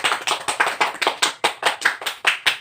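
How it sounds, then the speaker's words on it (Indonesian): A classroom group claps for a student, a short burst of steady, even applause of about a dozen quick beats, close and fairly loud, with no talking over it. "Kita beri aplaus untuk Fajar."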